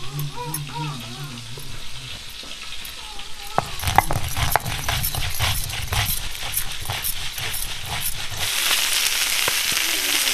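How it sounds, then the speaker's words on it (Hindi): Fish fries in a pan with a crackling sizzle that rises and grows louder midway, with scattered clinks and a voice talking near the start. "दोस्तों रंगीरा पापा उधर भून रहे हैं मछली को"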